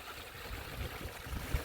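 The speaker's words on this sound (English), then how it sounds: "The waterfall is background noise." Water pours from a pipe into a pond as a small waterfall, a steady soft broadband rush with low gurgling, faint and continuous with no voices.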